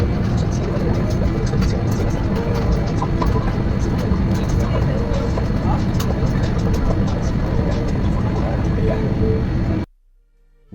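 Rolls-Royce engines of an Avianca Boeing 787 Dreamliner lining up on the runway at Paris, heard from the cabin as a loud steady rumbling roar that continues for about ten seconds and then cuts out.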